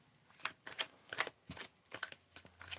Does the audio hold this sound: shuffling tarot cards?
yes